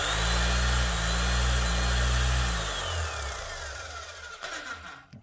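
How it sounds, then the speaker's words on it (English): Makita HM0810T electric chipping hammer running loud and close, a steady low hammering drone that slows and fades in the last seconds as the tool winds down. "next up we have a nice little Makita chipping hammer"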